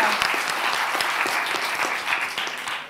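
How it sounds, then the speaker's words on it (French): An audience at a round-table event on women in defence applauds a participant, with steady, sustained clapping from many people at moderate loudness that tapers slightly toward the end. "On peut applaudir aussi Valéria."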